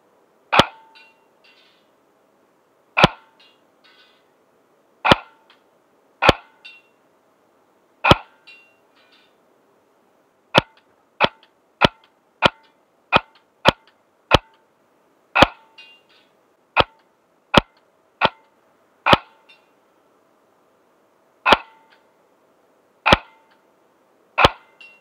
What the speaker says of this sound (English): I'm about 60 feet away from these Evite can targets, so let's take some shots and see how this gun performs.